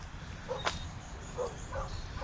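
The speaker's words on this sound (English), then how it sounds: "my dog is very angry at me in this get up and is barking at me from the window." A dog barking from behind a window, a few muffled, short yips and barks at moderate distance over a steady background hiss.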